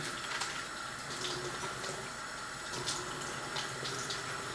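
Running tap water pours steadily into a sink while a face is rinsed, a constant close hiss with brief splashes from hands cupping and scooping water, and no voices.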